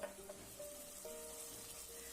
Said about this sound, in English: Now fry the onions nicely.